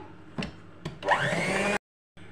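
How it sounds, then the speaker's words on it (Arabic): An electric hand mixer whirs as it beats baking ammonia into milk, starting with two short bursts and then running steadily and fairly loud before cutting off abruptly into silence. "خلاص كده ضربنا النشادر واللبن"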